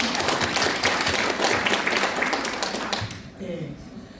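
An audience at a 2019 Seongnam traditional market and alley commerce results-sharing event claps in a dense, fairly close burst that fades out near the end, leaving a faint voice underneath.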